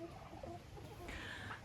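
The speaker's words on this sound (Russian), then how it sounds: "И вот так вот на вольном выгуле петухи" Free-range roosters cluck in short, soft bursts with a brief higher call near the end, faint and somewhat distant against open outdoor ambience, with no talking.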